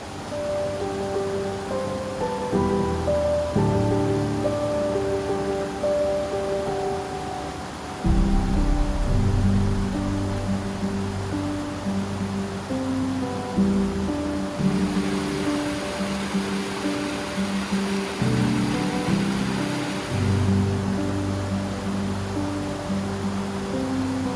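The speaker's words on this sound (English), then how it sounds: "I hope you can hear me over this creek noise" Creek water rushing outdoors along a hiking spot, a steady, loud broadband wash that never lets up, with low sustained tones running beneath it throughout.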